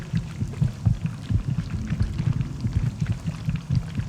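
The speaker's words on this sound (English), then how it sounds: "hearing my low HP heartbeat try to sync up with Harold's heartbeat" A low-health heartbeat in Fallout 3, with dull, thumping pulses repeating steadily and close, layered with a second similar throb so the beats overlap and drift in and out of sync.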